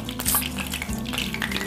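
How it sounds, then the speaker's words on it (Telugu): Garlic hits hot oil for a tempering for mutton gongura pickle, giving a loud, close, continuous sizzle with stirring scrapes and clinks of a spoon in the pan. "వెల్లుల్లి వేసుకున్నాను"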